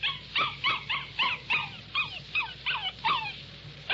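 A small puppy in a radio drama whimpers and yips in a steady run of about eight short, high, nasal cries spaced roughly half a second apart, close and clear with no talking.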